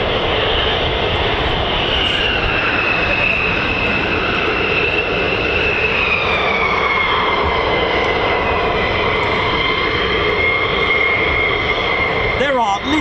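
A USAF F-15 fighter jet from the 48th Fighter Wing flying at RAF Lakenheath, a loud sustained jet roar with a slowly sliding whine as it passes, steady and close throughout, a voice briefly heard under it.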